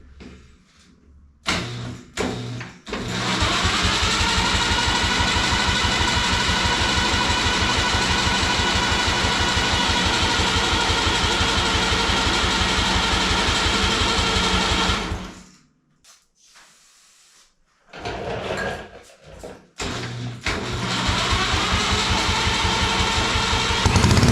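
A turbocharged snowblower engine is cranked with the fuel supply in question, giving a loud, steady mechanical drone for about twelve seconds. It cuts out, a short quiet gap follows, and then another cranking burst comes.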